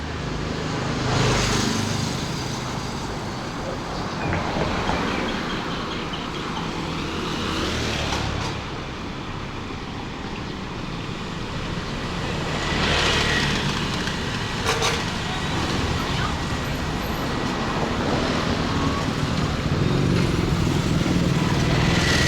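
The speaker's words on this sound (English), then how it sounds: "the motorbike is the preferred method of transportation around here" Motorbikes and other traffic pass along a street in Pattaya, Thailand, making a steady engine drone with a few louder swells as bikes go by nearby, heard from the roadside.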